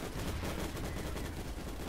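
Muffled gunfire in a video game, shots passing through walls, heard as a steady, dense, low-level rattle of rapid shots throughout.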